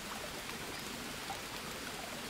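A river in the jungle survival game Green Hell flows with a soft, steady rushing and trickling hiss, faint and continuous without any talk.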